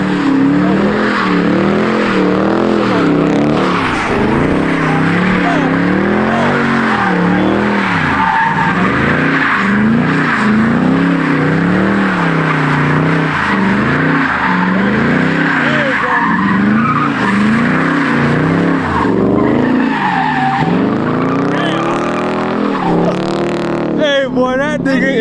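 A car sliding and skidding on a wet road in the rain, loud sustained tire squeal with a wavering pitch over revving engine, close by, with voices talking and shouting through it.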